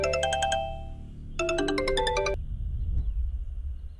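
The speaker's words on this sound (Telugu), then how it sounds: "ఆ ఫోన్ అటెండ్ చేయరా." A mobile phone rings with a bright electronic ringtone in two clear bursts, separated by a short gap, over a low background rumble in a dramatic film scene.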